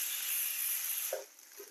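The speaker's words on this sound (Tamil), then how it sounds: "இப்போ இந்த ஸ்டேஜில் துருவின தேங்காய் போட்டுக்கிறேன்" Grated coconut sautéing in a pan, a steady bright hiss and sizzle throughout, softening near the end with a couple of faint clinks.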